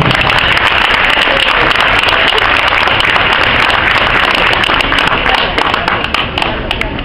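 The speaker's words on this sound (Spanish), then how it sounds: "Recibamos con un fuerte aplauso al licenciado Raúl Sosa González" Dense, steady applause from a crowd welcoming licenciado Raúl Sosa González at the Christmas tree lighting in Santiago Tuxtla, holding loud and unbroken for about seven seconds, easing slightly at the end.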